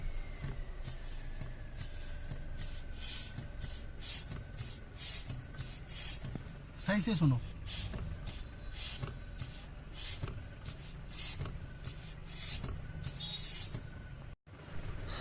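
Air hisses from a faulty car brake booster as the brakes are pressed and released, a faint recurring leak over a steady idling engine, with a brief spoken remark partway through.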